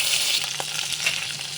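An ingredient sizzling in hot oil in a clay pot, a steady close crackle and hiss of frying with a few brief stirring bursts, no voices over it.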